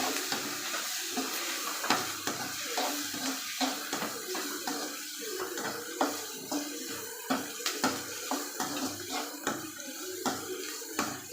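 Food with green chillies frying to a brown colour as it is stirred in a pan, steady sizzling under rhythmic scraping strokes of a spoon, close and without voices.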